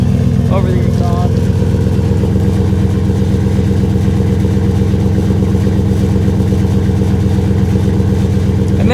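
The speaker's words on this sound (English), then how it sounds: "this exhaust is pretty loud" A Flowmaster Outlaw exhaust drones loud and constant inside a truck cab, a deep throbbing idle with a slight blip early on, while someone talks over it.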